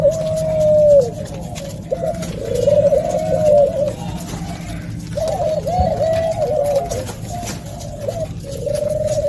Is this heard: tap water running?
no